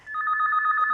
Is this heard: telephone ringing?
yes